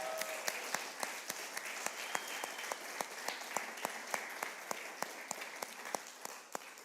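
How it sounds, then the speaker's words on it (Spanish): A church congregation claps together in a steady rhythmic beat, roughly four sharp, evenly spaced claps per second, continuing without pause at moderate loudness. "Un aplauso al Señor por ellos."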